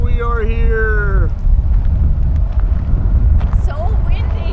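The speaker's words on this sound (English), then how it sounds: "It's so windy. It is very breezy." Strong wind buffets the microphone in a steady low roar on the Extraterrestrial Highway in Nevada, while a voice calls out briefly near the start and again near the end.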